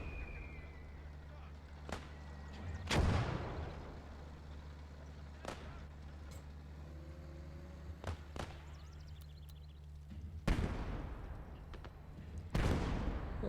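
Mortar fire in the World War II game Gates of Hell: Ostfront, several sharp distant blasts and cracks spaced a few seconds apart over a steady low rumble of engines and battlefield ambience.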